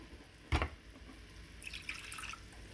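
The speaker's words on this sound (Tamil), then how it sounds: "இதில் வந்து நான் கொஞ்சம் தண்ணி சேர்க்க போகிறேன்," Water trickling and splashing faintly into a pan while making a sauce for baked chicken, with a brief clunk near the start and a quiet thin pour following; no talk.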